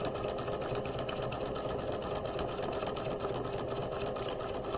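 A sewing machine stitching the lining of a tote bag runs steadily and close by, a continuous rapid mechanical whir with even needle clatter and no pauses or voices.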